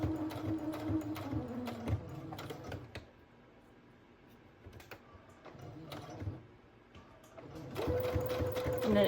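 A sewing machine stitches a fabric border onto a junk journal made from a cereal box, quick rapid bursts of needle clatter at the start and end with quieter handling between, close by.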